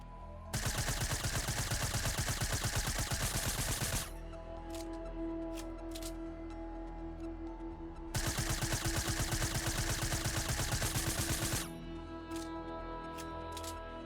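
Rapid automatic gunfire from a Fortnite weapon during an accuracy test, two long sustained bursts of loud, evenly spaced shots separated by a few seconds of quieter game ambience.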